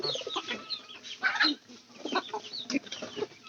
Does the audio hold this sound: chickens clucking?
yes